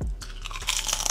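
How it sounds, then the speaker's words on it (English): A close, loud crunch as teeth bite into crispy potato wedges, followed by a second of steady crackling chewing with no talk. "Our crispy potato wedges. Done. They look amazing. Let's take a bite."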